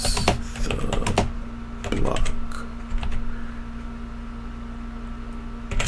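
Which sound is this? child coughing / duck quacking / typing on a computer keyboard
typing on a computer keyboard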